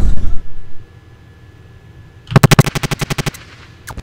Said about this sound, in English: Try firing your rocket salvo now.